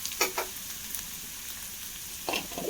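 Small chopped onions frying in a pan give a soft, steady sizzle, with a few brief stirring scrapes near the start and end; no one speaks.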